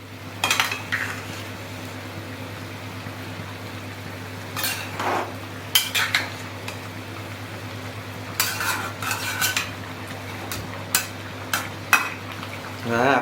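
A spoon stirs butter chicken in a pot, giving repeated scraping and clinking strokes in short bursts over a steady low hum, with no talking.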